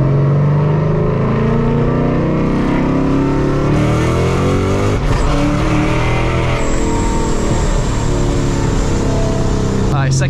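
A 700 hp Ford Mustang engine accelerates through a second-gear downshift, a loud, close, deep rumbling roar that rises and swells steadily throughout.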